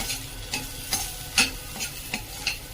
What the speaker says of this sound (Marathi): लसूण चांगला परतून घ्यायचा आहे